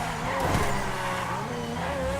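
A supercar in GTA V skidding on the handbrake, a sustained engine roar with a brief burst of tire squeal near the start and the pitch sliding through the slide, loud and close with no talking.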